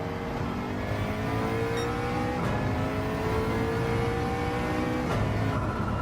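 A race car engine in Gran Turismo 7 revs hard and climbs steadily in pitch, with brief dips at two gear changes. The loud, continuous drone stays close and plays alone without speech.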